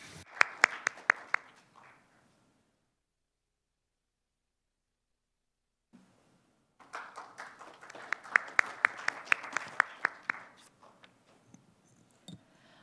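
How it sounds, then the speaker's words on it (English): Audience applause welcoming a speaker at a policy conference: a short burst of clapping, a few seconds of silence, then a second fuller round of clapping that thins out into scattered claps. "Please welcome her with warm round of applause"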